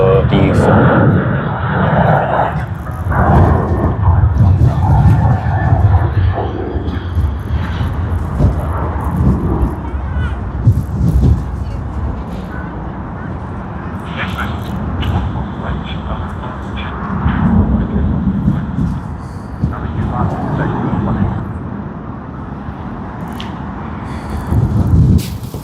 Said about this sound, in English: we are going to get a wonderful A380 departure, I believe, of Singapore Airlines